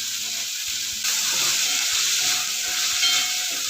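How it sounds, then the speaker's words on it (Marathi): Mixed vegetables for sambar, seasoned with turmeric and salt, hiss and sizzle in a pan over a slow gas flame. The sizzle swells after a second, with light clinks and scrapes underneath and no voices. "गॅसच्या स्लो फ्लेमवर भाज्या चांगल्या वाफून घेऊया"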